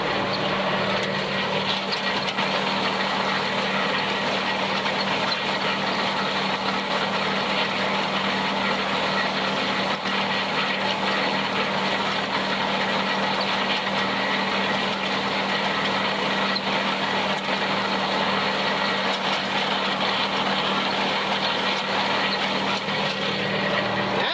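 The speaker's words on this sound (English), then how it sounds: "you can hear it rattling going through the tedder" Dry hay running through a tractor-drawn tedder during haymaking, a steady loud mechanical drone with a continuous rattle and hum throughout, with no pauses and no voices.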